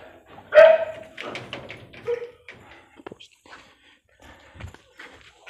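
A dog gives a loud sharp bark and a few yips and whimpers close by, while someone talks intermittently and rustling movement fills the gaps.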